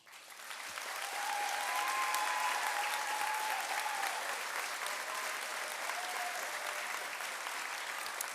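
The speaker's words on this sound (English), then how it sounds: "Could we please give your teachers a short round of applause?" Graduation ceremony audience applauding teachers, a steady wash of many hands clapping that swells within a second and holds evenly, heard from across a large hall with no voices on top.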